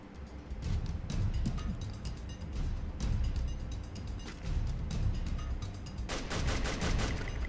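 Bursts of rapid gunfire in the mobile battle royale game Free Fire come in several loud, close clusters spread evenly through the stretch, with short gaps between volleys and no speech.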